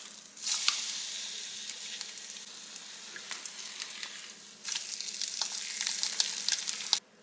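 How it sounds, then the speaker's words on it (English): An egg fries in a pan with a steady, close sizzle that swells louder after about four and a half seconds, with small pops and crackles scattered throughout and no talking. "I'm going to give my egg a little flip."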